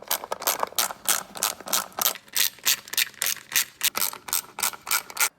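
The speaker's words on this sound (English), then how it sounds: "Now I'm gonna take the valve covers off." A ratchet wrench loosens the valve cover bolts on a small-block Chevy 350 under rebuild, giving close, rapid bursts of metallic clicking that repeat in an even back-and-forth rhythm.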